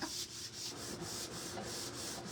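Steady rhythmic rubbing and scuffing, like a belly brushing back and forth against a table edge, repeating in even strokes at close range with no talking.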